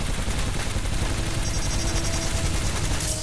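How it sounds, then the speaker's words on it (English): Sustained rapid gunfire from a weapon in the Titanfall video game, loud and continuous bursts blending into a dense rattling barrage throughout. "Shoot it with my other gun."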